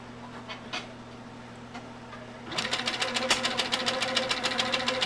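A sewing machine stitches slowly around a quilt template for a Brooklyn brown cornerstones block, starting up midway with a close, even, rapid rattle of needle strokes after a quieter stretch.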